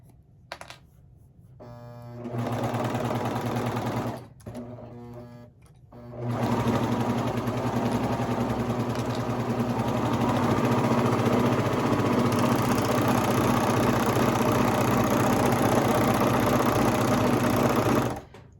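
Sewing machine stitching a pair of baby leggings, with a short burst, a pause and a stop-start run, then a long steady whir of rapid stitching close by, with no talking.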